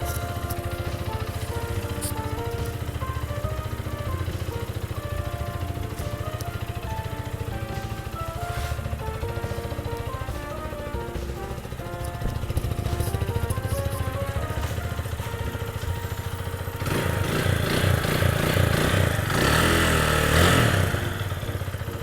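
A 2020 GPX Raptor 180 motorcycle with about 5,000 km on it runs steadily nearby, a continuous mid-pitched engine drone with mechanical clatter that grows louder and rougher toward the end as it revs.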